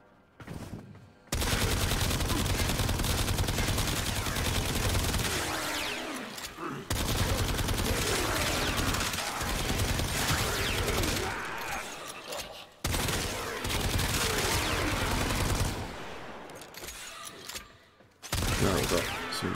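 The Aeolak assault rifle in Warframe fires on standard fire mode against heavy gunners. Loud, dense bursts of automatic gunfire run for several seconds each and are broken by short pauses.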